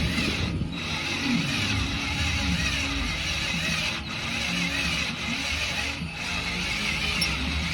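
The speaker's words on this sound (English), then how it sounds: "So I can run the drill nice and slow, real slow and steady." A drill running slow and steady through a broken shock bolt, giving a continuous grinding mechanical whir with slight dips in intensity, close and fairly loud throughout.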